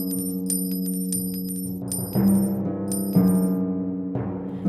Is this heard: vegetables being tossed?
no